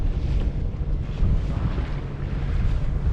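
Wind rushes and buffets a microphone aboard a sailboat off Mount Desert Island, Maine, a continuous low roar with the wash of water underneath and no voices.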